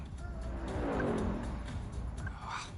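Trucks rolling past on a road in the video game Dustborn, a broad swelling rumble of tires and engine noise that rises and fades, then another pass begins, fairly close and steady.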